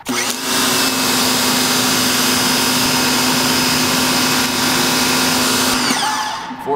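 A $99 Ryobi electric power washer runs steadily and loudly for several seconds, a continuous motor-and-pump whine with a sustained tone, then cuts off near the end.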